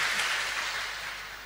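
A church congregation at a Vietnamese parish feast-day Mass breaks into steady applause, a dense wash of clapping that holds evenly and fades slightly over a second and a half, with no voices over it.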